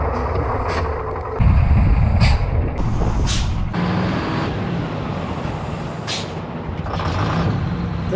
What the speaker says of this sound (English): It was time for a brake test.